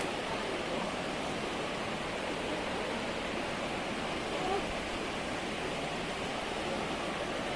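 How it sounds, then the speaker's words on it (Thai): A continuous broad rush of falling water from a waterfall at Kaeng Kuen, Mae Taeng, Chiang Mai, roars steadily, an even wash of noise with little variation. "เสียงน้ำตกไหลดีมากเลยนะเอฟซี"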